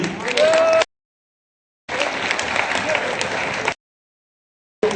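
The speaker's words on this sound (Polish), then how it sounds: "no to miała być brawa dla blondynki" Audience applause during the ESL Pro Series esports final comes in two bursts of clapping, cut off abruptly between them, with a voice heard at the start.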